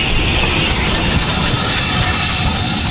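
A loud, continuous rumble of a heritage steam train close by on the Bluebell Railway, a heavy droning roar that holds steady throughout without voices.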